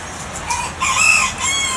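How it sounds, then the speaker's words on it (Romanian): A rooster crows close by on a terrace, one loud drawn-out call rising and holding, with a fainter second note trailing at the end. "cocoșelul se îndreaptă către zona asta unde discutăm noi aici pe terasă"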